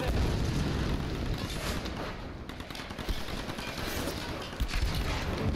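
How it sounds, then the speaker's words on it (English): Gunfire in the Tomb Raider (2013) video game, a dense run of rapid shots and booming blasts that fills the whole stretch without pause, loud and close. "Shot me like 3 times in a row."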